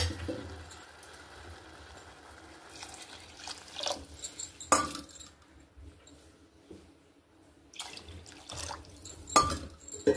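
Water poured into a cooking pot for katte pongal over fried rice and dal, six cupfuls in all, comes as a few separate splashing, trickling bursts with quiet gaps between them, close by and fairly soft.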